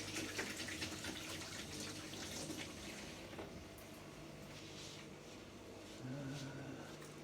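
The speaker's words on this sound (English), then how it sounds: "Just going to wash my hands quickly" Water runs steadily from a tap while hands are washed, a faint, continuous splashing hiss with small shifts in flow.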